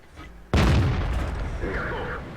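A single loud, booming tank cannon shot in a video game with Soviet medium tanks erupts suddenly, followed by a long rumbling decay, with faint background noise before it.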